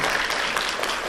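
Audience applause at a Korean science event, dense, steady clapping filling the whole short stretch at moderate level, with no voices over it.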